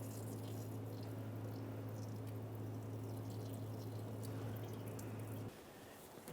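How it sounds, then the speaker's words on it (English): Power steering fluid drains from a disconnected pressure line on a 2004-2008 Ford F-150 into a collection receptacle, a steady patter and trickle with a low hum beneath that cuts off near the end. "We'll angle this down to drain our fluid."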